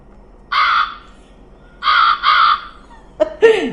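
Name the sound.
crow cawing sound effect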